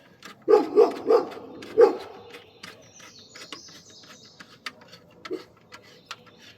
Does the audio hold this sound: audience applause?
no